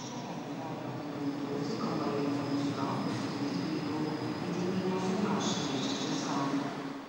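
The Porto–Vigo international passenger train rolls past in a steady, continuous rumble, with wheel and rail hiss and faint squeals rising and falling over several seconds.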